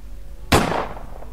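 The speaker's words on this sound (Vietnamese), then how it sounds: "Tiếng súng thứ ba vang lên." A single sharp gunshot sound effect rings out in a Vietnamese radio horror story, a loud sudden crack at about half a second that decays into a fading tail, with nothing else around it.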